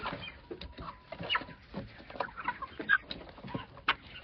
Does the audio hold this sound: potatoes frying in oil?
no